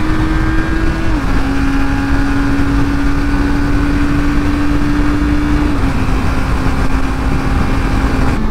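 A Honda E-Clutch motorcycle engine running steadily while riding, a loud continuous drone whose pitch drops slightly twice as it downshifts, with wind noise throughout and no talking.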